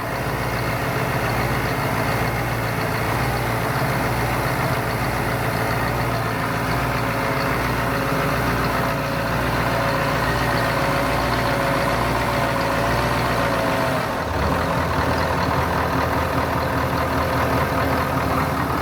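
A heavy diesel engine idles steadily at a boat launch with a deep, rumbling drone and a faint whine, like an old bus, with a brief dip near the end.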